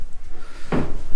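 A closet door in an abandoned mansion opens with one short, muffled thud-like knock over a quiet room hum.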